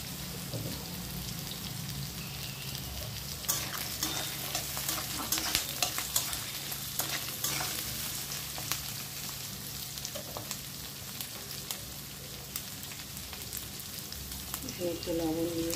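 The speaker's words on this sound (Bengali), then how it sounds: "সব একসাথে দিয়ে দিই, সব একসাথে ভাজা হয়ে যাবে।" Mixed vegetables sizzle together in a pan with tempered spices for prawn paneer biryani, a steady frying hiss broken by repeated stirring scrapes and clinks, close and unaccompanied by speech.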